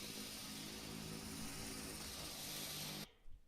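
Aircraft engines in a Prepar3D flight simulator spooling down: a steady, loud engine drone that cuts off abruptly near the end, leaving quiet with a faint last rumble.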